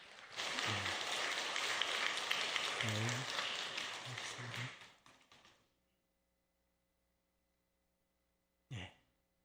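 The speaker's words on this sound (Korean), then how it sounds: "큰 박수로 환영해 주시기 바랍니다" An audience at a church summer retreat session welcomes a pastor to the stage with dense, sustained clapping for about five seconds. The clapping fades out into silence, and a brief short sound follows near the end.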